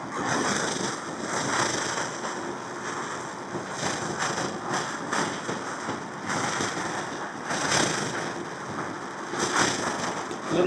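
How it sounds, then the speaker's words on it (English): Svea 123R camping stove burner fitted with a silent damper roars steadily at full blast, heard up close, with a slight rhythmic pulsing swelling through the hiss. "A little bit of pulsing."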